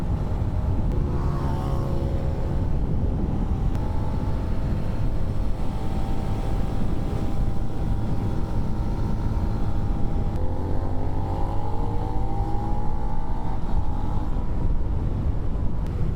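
A continuous motorcycle engine roar dominates, loud and steady, with shifting tones as the motor revs up and down while riding the mountain road over the Col de la Bonette.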